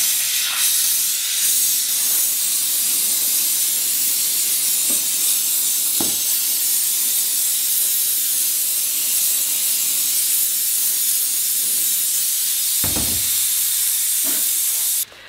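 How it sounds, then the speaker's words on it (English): A handheld household steam cleaner hisses loudly and steadily while lifting residue, a continuous close spray of steam with a few brief knocks, cutting off at the end. "Now what I'm gonna do is take my steamer"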